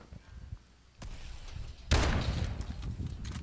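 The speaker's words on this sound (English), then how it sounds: "There's someone behind me! He's shooting me!" Gunfire in Call of Duty Advanced Warfare multiplayer, quiet thuds and a sharp shot near the start, then a louder burst of firing with rumbling impacts continuing to the end.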